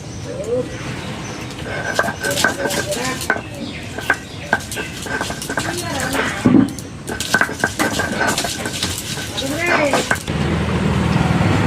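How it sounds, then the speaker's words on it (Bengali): Ginger and garlic being ground into paste on a grinding stone make repeated scraping and rubbing strokes with knocks and clatter. Speech runs over them and birds call in the background. "এবার আদা রসুন বেটে নেব। মশলা বেটে নেব।"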